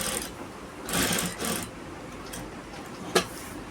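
A sewing machine stitches along a marked line on a kurti neckline in short bursts of whirring with pauses between, and a sharp click near the end, close and moderately loud.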